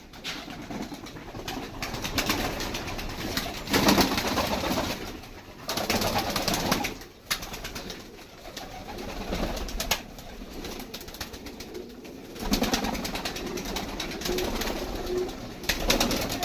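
Pigeons coo steadily in a loft, with soft, continuous murmuring from several birds mixed with fluttering and background noise throughout, and no talking.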